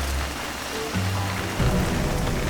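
Steady rain pours down outdoors on a concrete work site, a dense close hiss of drops on hard surfaces with low rumbling underneath, continuous throughout.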